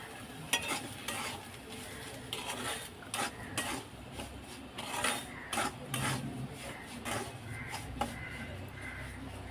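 Dry-roasted semolina (suji) is added to a pan for upma and stirred, giving a steady grainy scraping and rustling with occasional light clinks of the spoon against the pan.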